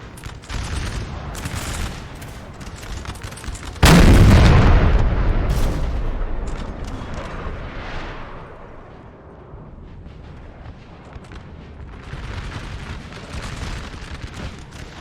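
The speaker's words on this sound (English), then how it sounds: "One of those artillery pieces still getting some shots." Artillery fire in Napoleon Total War during a 4v4 battle: scattered cannon shots and musket fusillades open the scene, then a single massive boom erupts and rolls into a long, slowly fading rumble, with faint gunfire continuing afterward.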